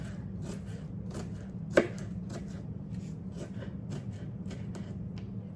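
Food being cut up for Southern potato salad during Thanksgiving dinner prep, with a steady run of quiet, evenly spaced knife taps on a board over low kitchen hum and one sharper knock.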